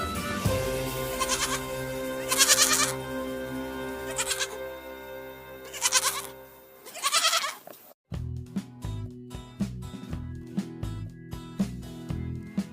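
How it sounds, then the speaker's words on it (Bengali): A young goat bleats several times in short, wavering, nasal cries spaced a second or two apart, clear and close, followed by a rhythmic children's music backing. "ছয়ে ছাগল ছানা লাফিয়ে চলে"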